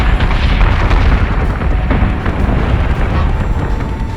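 Warship batteries open fire in the space combat game Battlestar Galactica Deadlock, a continuous loud wash of heavy booming detonations with no clear gaps between shots.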